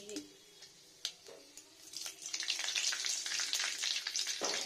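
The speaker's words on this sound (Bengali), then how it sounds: "তেলটা গরম হয়ে গেছে, এখানে 5 ফোড়ন প্রথমত" Five-spice seeds dropped into hot mustard oil for tempering: a few faint clicks and taps first, then a sizzle that swells and holds steady and bright before stopping abruptly near the end.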